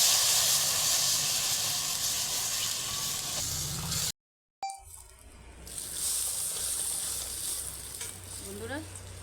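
Water poured into a hot cooking pan sizzles and hisses steadily and loudly, a brief cut of silence midway, then steam crackling and bubbling continuing close by.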